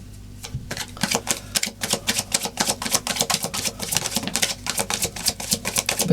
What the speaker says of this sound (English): I'm going to pull you some oracle cards just to close out your reading